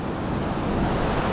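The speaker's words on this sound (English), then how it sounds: "the water sound is probably deafening" Waves surging and splashing along the rocky Phillip Island coast near the Pinnacles, a loud, dense wash of water noise filling the whole moment, mixed with wind buffeting.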